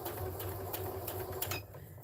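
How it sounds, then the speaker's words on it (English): A home sewing machine stitches a lined drawstring goody bag, run without its foot pedal, giving a close, steady rapid mechanical whir with faint rhythmic ticking, slowing near the end. "And this time I'm sewing without my pedal."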